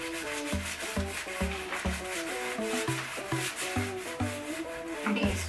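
A sponge with The Pink Stuff cleaning paste rubs back and forth over a surface in a quick, steady scrubbing rhythm, close and moderately loud, with music playing underneath.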